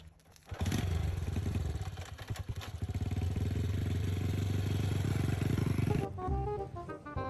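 A motorbike engine starts up and runs with a steady, close mid-pitched drone and clattering rhythm for several seconds, then cuts off abruptly, leaving quieter sounds.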